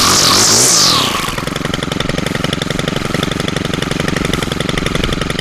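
Stihl string trimmer with a choked two-stroke engine, loud and close: a brief high whining rev, then a steady rapid buzzing run.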